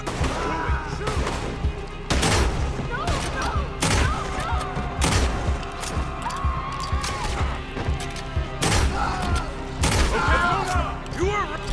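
Repeated heavy gunshot bursts ring out in a Red Dead Redemption 2 shootout on Guarma, loud and irregular over a busy game soundscape with voices mixed in.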